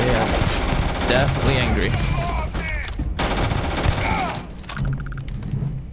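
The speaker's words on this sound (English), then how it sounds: "Oh, they're shooting at me." Enemy gunfire in the space video game Starfield crackles as steady bursts and rapid shots under dense game noise, with a voice talking over the shooting throughout.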